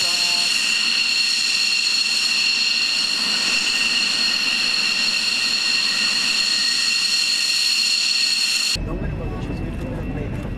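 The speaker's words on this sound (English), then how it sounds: "Shot of the F-100 Super Sabre and Dean Cutshall." An F-100 Super Sabre jet passing at an air show, a loud steady roar with whining high tones that drops off sharply near the end.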